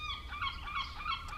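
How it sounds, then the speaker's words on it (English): Loud gulls call from a house roof close by, a rapid run of harsh, honking cries with no talk over them. "these are some loud seagulls"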